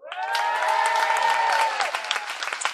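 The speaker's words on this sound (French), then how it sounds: "par applaudissement pour voir" Comedy show audience at a summer festival applauding, loud and sustained throughout, with cheers and whoops rising over the dense clapping before it thins slightly near the end.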